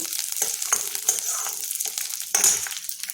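A soft crackling sizzle of spiny gourd frying in oil for chutney, with scraping stirs and a brief clink, close and steady with no talking.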